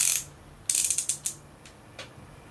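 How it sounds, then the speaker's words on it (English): Ratchet cinch devices on the lower section of a K39d knee brace clicking as they are pressed and turned to tighten, a quick run of several sharp ratcheting clicks followed by a few isolated ones, close and clear with no talk. "Press and turn the two cinch devices to tighten the lower brace to a desired snug fit."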